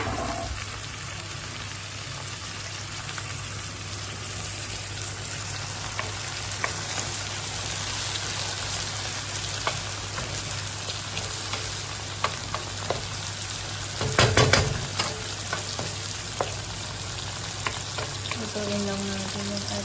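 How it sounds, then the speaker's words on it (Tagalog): Onion and tomato saute in a hot pan, a steady loud sizzle running throughout with occasional clinks and scrapes of stirring, one louder clatter midway. "Lutuin lang natin yung ating sibuyas kamatis."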